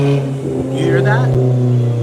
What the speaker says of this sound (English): Cars designed to create noise pollution because that car right there, there's no necessity for that noise.